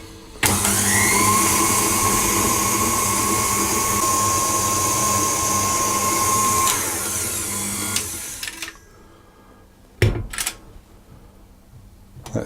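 Electric hand mixer beating lemon icebox cookie dough, a loud steady whirring drone with a high whine that runs for about eight seconds and then cuts off, followed by a couple of short clicks and knocks.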